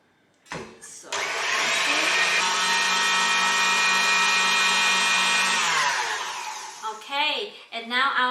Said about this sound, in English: I'm going to pop it into the machine and whisk it until it's formed.